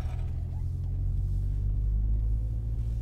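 A V12-engined car cruises along smoothly, its engine a steady, close, continuous low rumble with no speech over it.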